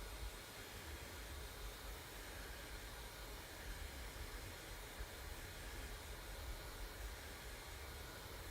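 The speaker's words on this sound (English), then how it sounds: "a hot blow dryer or I can put it on a cool" A blow dryer on its cool setting blows over artwork, giving a steady, even airy hiss that holds at one level throughout with no talking.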